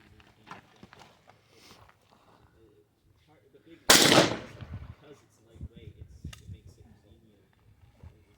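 A single sharp pistol shot cracks out during an at-home shooting match, loud and close, amid quiet background noise and soft movement sounds before and after.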